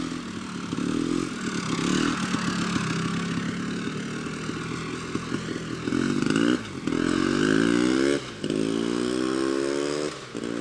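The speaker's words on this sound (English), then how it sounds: "You'd see a Penton 250 GS run up the street just like this at a local Enduro here in New England." A 1973 Penton KTM Hare Scrambler 250 GS enduro motorcycle runs close and loud throughout, its engine revving repeatedly in rising surges between steady running, with no voices.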